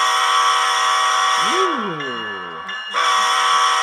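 Horn sound from a model train locomotive plays as one sustained, loud multi-tone blast with a short dip partway through, close by. Someone briefly exclaims during it.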